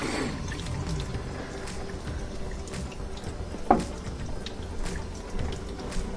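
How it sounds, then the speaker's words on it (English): Hot water is poured over plastic parts from a front-load washer, giving a soft, continuous wash of running liquid. One brief splash stands out midway, and the sound stays fairly quiet and close throughout. "Using some hot water."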